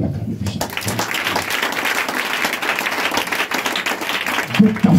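A church congregation applauds and acclaims in a loud, sustained burst of clapping with crowd noise and voices mixed in.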